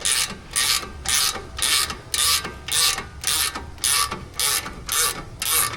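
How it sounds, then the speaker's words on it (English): A ratchet wrench turns bolts on a car's brake caliper, giving about eleven even, loud clicking bursts in a steady back-and-forth rhythm, close up and with no talking. "watching me wrench my bolts"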